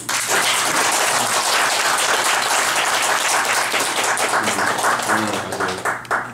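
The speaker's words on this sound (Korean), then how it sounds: "박수를 한번 보내드려야 됩니다." Dense, continuous applause from an audience at a church gathering, loud and steady for several seconds before thinning slightly near the end, with a faint low hum beneath.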